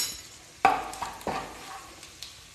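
Spices with hing and Kashmiri chilli powder fry in a pan, a steady soft sizzle broken by a few sharp stirring scrapes and clinks of the spoon against the metal, close and alone.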